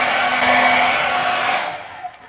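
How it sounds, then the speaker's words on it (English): A hair dryer blows loudly and steadily on Kool-Aid dyed hair extensions, its airy roar holding close and constant before easing off and winding down with a faint bump at the end. "after blow drying them a bit"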